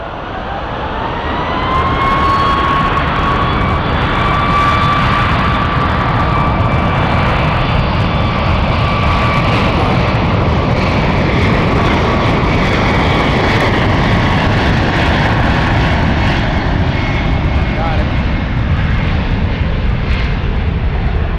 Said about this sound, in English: Emirates 225 coming in.